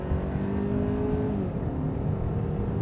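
A 2026 Hyundai Santa Fe XRT AWD with a new transmission accelerates hard, front tires spinning slightly, as a loud, steady engine drone and whir press on without a break and no one speaks.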